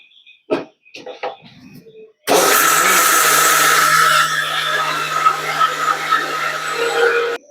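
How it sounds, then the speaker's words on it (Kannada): A mixer grinder grinding soaked rice together with ground masala, starting abruptly with a loud whirring roar after a few seconds of quiet speech, then settling into a slightly lower steady grind that runs to the end. "ಮಸಾಲೆ ರುಬ್ಕೊಂಡದಕ್ಕೆ ಅಕ್ಕಿ ಹಾಕೊಂಡು ರುಬ್ಕೋಬೇಕು"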